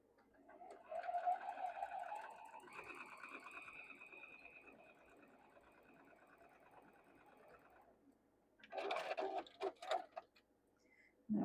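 A sewing machine joins long quilt block pieces with a faint, steady whirring run that stops abruptly, followed by brief handling clatter and a short burst at the end.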